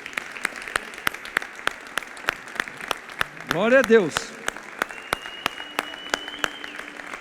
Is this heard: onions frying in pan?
no